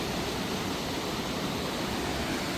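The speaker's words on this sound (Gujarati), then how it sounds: "મસ્ત ધોધ પડે છે." Cascada Lotrisor waterfall in Romania roars as a steady, loud broadband rush of falling water, close by and constant with no voices.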